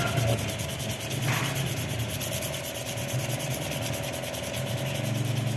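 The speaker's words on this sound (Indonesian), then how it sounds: "Kemudian diamplas seperti ini." Sandpaper rubs back and forth on a part from the CVT of a Honda Vario 125 injection scooter, a continuous close scratchy rasp in steady strokes.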